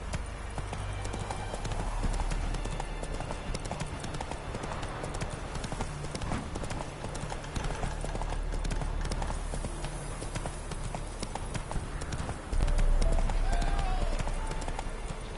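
Geralt's horse Roach in The Witcher 3 video game, steady rapid hoofbeats of a gallop running throughout, close and fairly loud over a bed of ambient game music, with a brief voice.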